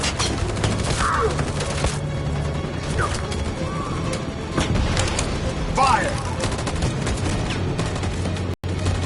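A volley of gunfire crackles in a video game, sharp shots and mechanical clatter bursting close and loud in uneven clusters under a tense soundscape with spoken voices around them.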